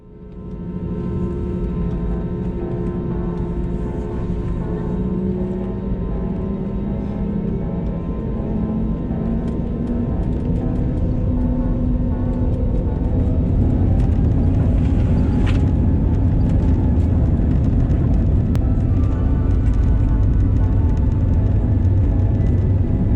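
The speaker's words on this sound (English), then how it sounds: "let's take off into the dark sky and set our course for Heathrow" Airliner taking off into a dark night sky, bound for Heathrow, heard from inside the cabin as a deep rumbling roar that builds and stays loud and continuous throughout.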